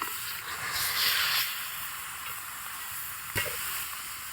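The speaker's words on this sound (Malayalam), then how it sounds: "മുളക് പൊടിയും മഞ്ഞൾപ്പൊടിയും ഉപ്പുപൊടിയും പുരട്ടി വെച്ച ചിക്കൻ അങ്ങോട്ട് ഇടുക." Chicken pieces coated with chili powder, turmeric and salt sizzling in a hot pan, a steady close frying hiss with a brief louder burst near the start and a short clatter toward the end.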